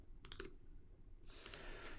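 Faint computer keyboard clicks at a quiet editing desk: a quick cluster of a few key taps early on, then a second short burst of clicks near the end, with no talking.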